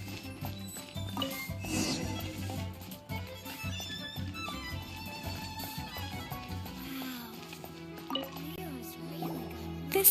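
Fetching water in the Genshin Impact video game, with dripping and liquid-filling effects under layered game music and in-game sound effects for about ten seconds.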